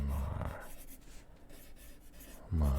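A pen scratches out a name by hand in close, quiet ASMR style, producing soft continuous scribbling, with brief low rustling or handling noises at the start and end.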